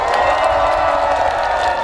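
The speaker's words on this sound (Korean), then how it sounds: "박수와 함성을 보내주십시오." Festival concert crowd at an azalea festival on a mountain, cheering and whooping steadily with scattered clapping, loud and sustained throughout, calling for an encore.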